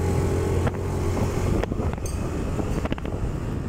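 Honda Beat scooter engine fitted with a Vario 125 injector, with a faulty sputtering, hesitating condition, runs steadily and is revved up close by, with wind noise over the microphone and short bursts as the throttle is opened.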